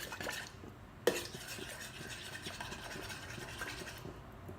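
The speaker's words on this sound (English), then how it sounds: "I'm just going to scrape out half of this" A spoon or spatula scrapes half of a thick chicken soup mixture out of a pan, giving a sharp knock near the start and then a steady, close scraping and stirring that runs alone under no talk.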